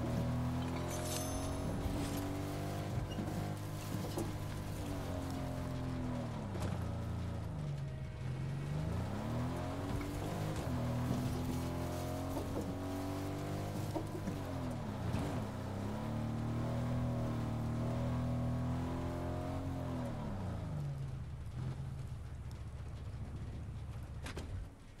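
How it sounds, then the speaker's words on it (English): Car engine in Fortnite, steadily droning and rising and falling in pitch as it revs through several cycles, moderately quiet and continuous with no talk over it. "my car doesn't sound good at all"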